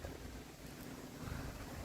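Wind blowing outdoors at a new shop build site, a steady low rumbling buffet against the microphone, fairly faint and without speech.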